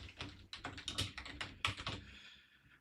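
Fingers type on a computer keyboard in quick close clicking bursts, a run of crisp taps that pause briefly midway and then trail off.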